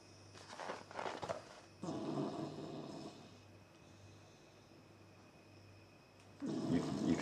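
A dog in deep sleep snores and breathes heavily in a quiet room, two rough bursts early, a steady stretch, then a louder one at the end, with a soft steady hum underneath.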